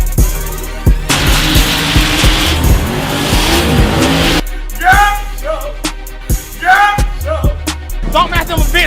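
Car doing a tire-squealing burnout with Ken Block at a Donkmaster event: a loud, sustained screech and roaring engine for several seconds, then revving bursts and chirps with music and voices around.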